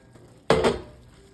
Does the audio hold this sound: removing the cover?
yes